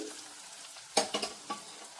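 Finely chopped onion and ginger dropped onto chana dal frying in oil for banana flower curry; a faint, low sizzle with a sharp ladle scrape and a few light clicks against the pan.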